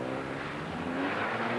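Front-wheel drive rally car on a slick artificial skid pan, its engine humming steadily nearby with a slight rising whine toward the end, no talk over it.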